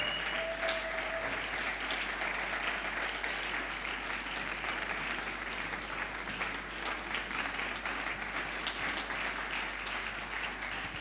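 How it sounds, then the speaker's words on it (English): Audience at a foundation's 20th anniversary event applauding its founder coming on stage, a full, even roar of clapping sustained for the whole stretch with no talking over it. "Please give her a round of applause as she comes up to give some special recognition"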